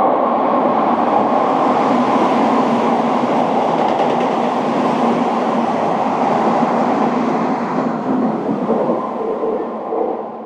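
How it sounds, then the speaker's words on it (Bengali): A Japanese local commuter train runs at speed, heard from inside as a loud, continuous low rumble and roar with faint rhythmic rail clatter, easing slightly near the end. "এটা হচ্ছে জাপানের গ্যালোপিং ট্রেন"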